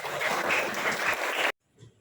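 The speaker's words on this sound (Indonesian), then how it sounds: "tepuk tangan untuk kalian" A class of schoolchildren applauds together, a brisk, dense clatter of clapping for about a second and a half that cuts off abruptly, followed by near silence and a soft voice.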